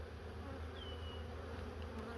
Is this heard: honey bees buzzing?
yes